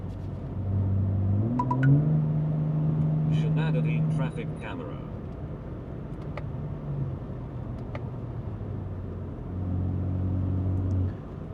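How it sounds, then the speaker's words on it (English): Deep burble of a BMW G8X M3/M4 fitted with a DCE EQL X-pipe exhaust, valves open, rising in low tones, settling, then swelling again near the end, moderately loud with someone talking over it. "of course the deep tones come to life, but it's not too loud"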